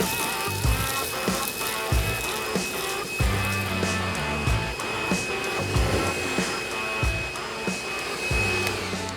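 Loud, continuous vacuum cleaner drone inside an abandoned airplane as it sucks up bird droppings, with repeated rhythmic knocks and rattles of the nozzle scraping and bumping against surfaces throughout.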